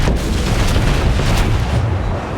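Battleship shells strike an enemy ship in the World of Warships naval video game. A dense, loud rumble of booming impacts and explosions fills the clip without pause.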